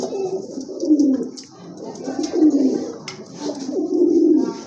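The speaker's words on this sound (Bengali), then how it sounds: "আরেক জোড়া কবুতর দেখতে পাচ্ছেন" A pair of young pigeons, the offspring of Turibaz birds, coo close by in repeated low, throaty rolling phrases over a steady background hiss.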